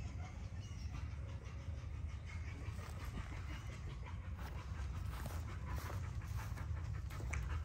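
Dogs at a home kennel pant steadily and rapidly, close by, in a continuous rhythmic huffing over low background rumble, with no talk.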